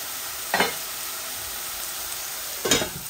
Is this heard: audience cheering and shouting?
no